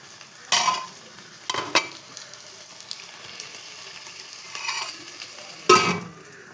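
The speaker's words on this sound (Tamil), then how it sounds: "தக்காளி போட்டுக்கோங்க. 4 தக்காளி எடுத்துருக்கேன். நல்லா வதக்கிக்கலாம்." Four tomatoes sautéing in a pan with occasional loud scrapes and stirring bursts over a quiet low sizzle, close and with no talk.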